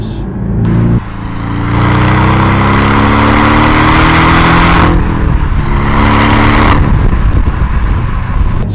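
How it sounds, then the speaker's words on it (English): A Porsche Cayman S engine revs hard from third gear upward, loud and close from inside the cabin, climbing in pitch, dropping briefly at each upshift, then pulling again. "And let's ram it out. So I'm in third now. I'm gonna get myself into sixth eventually"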